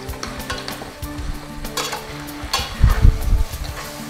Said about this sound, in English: Okay, so we're mixing in the Hidden Valley Ranch Fiesta flavored dip.